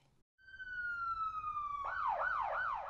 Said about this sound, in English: One black police car.